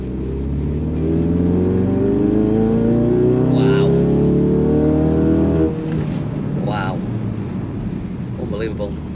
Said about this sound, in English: we're going to go third gear from a low rev start, and we're going to give it some welly